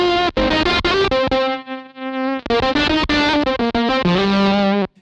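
An electric guitar runs through a Gamechanger Audio Plasma Pedal set to lowered voltage for a bluesy distortion, giving a loud, buzzy, broken-sounding tone as a run of sustained notes and chords is played alone with brief gaps.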